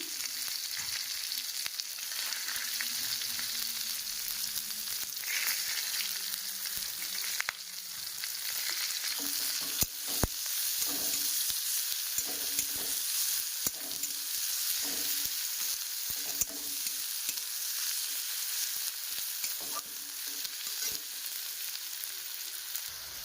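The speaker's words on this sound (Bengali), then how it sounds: "আদা পেঁয়াজ রসুন কুচি সব ভাজা ভাজা হয়ে গেছে" Chopped ginger, onion, garlic and green chilli sizzle steadily in a hot pan while cooking an aloo paratha filling. Occasional sharp scrapes and clatters of stirring cut through the continuous frying hiss, and no one talks.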